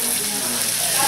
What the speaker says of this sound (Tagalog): Saute po natin ang bawang.